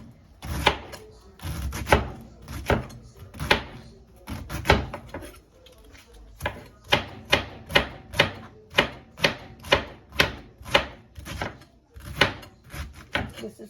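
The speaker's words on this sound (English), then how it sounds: "I have this cabbage. Take out the center core, wash, and I'm gonna chop it." A knife chopping cabbage on a cutting board, crisp rhythmic strokes close by, irregular at first and then settling into a steady, quick run of evenly spaced chops.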